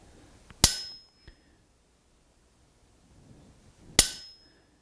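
Two sharp, isolated hammer taps on a chisel marking a line, each a crisp metallic strike with a short ring, about three seconds apart, close and alone in a quiet room.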